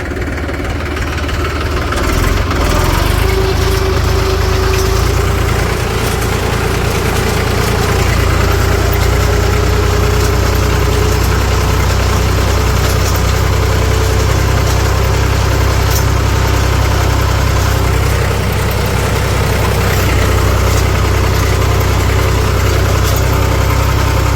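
A farm tractor, freshly through its first service, idles steadily and loudly with a deep, even rumble that holds for the whole stretch, with no talk over it.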